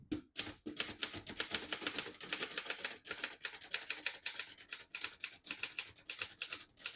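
Keys strike steadily on a 1935 Corona Sterling portable typewriter, a fast, even run of crisp, loud clacks close by for several seconds.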